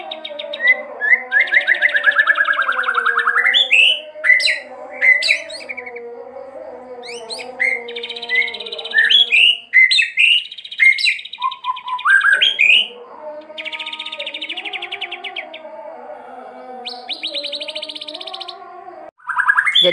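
A captive white-rumped shama (murai batu) sings close by in rich, varied phrases of whistles, chirps, rapid trills and harsh squawky notes, with short pauses between bursts.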